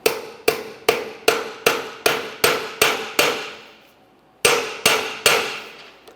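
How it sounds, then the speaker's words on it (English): A hammer strikes a steering column shift tube on a 2001-2005 Ford Explorer Sport Trac, driving it into place with a steady run of sharp metallic bonks. After a brief pause, three more blows follow. The hits are close and loud, with no talking. "give it a couple loving bonks with a hammer to drive it in"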